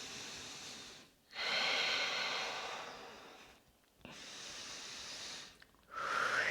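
Slow, audible breaths during a flow yoga session, three long airy exhales or inhales separated by brief pauses, close and soft with no talking.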